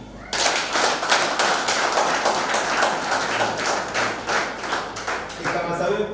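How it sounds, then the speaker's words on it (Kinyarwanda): An audience at a church gathering claps loudly and steadily, the quick clapping staying close and unbroken, with voices mixed in underneath. "Mumwongera amashyi"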